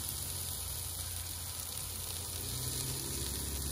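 Brioche buns laid on a hot Kamado Joe griddle, giving a steady, even sizzle that is fairly quiet and continuous, with no talk over it.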